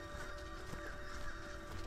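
About a dozen horses carrying armed riders arrive in a sound effect, with faint hoof clops and a soft whinny over low background noise.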